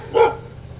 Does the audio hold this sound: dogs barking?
yes